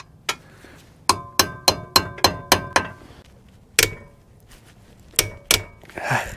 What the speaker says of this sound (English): I'm going to try to drive this in with a hammer and see if this can break it loose